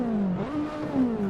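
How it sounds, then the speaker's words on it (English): A Stage 3 race car in the Assetto Corsa driving game revs up and down in quick, loud, close engine pitch sweeps for just over a second. "This car just sounds like it's going to be fast."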